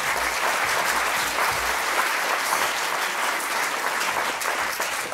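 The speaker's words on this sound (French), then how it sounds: "je vous propose qu'on les, qu'on les applaudisse d'ores et déjà" Steady applause from a conference audience at a colloquium on employment and professional retraining, dense and sustained throughout at an even level with no speech over it.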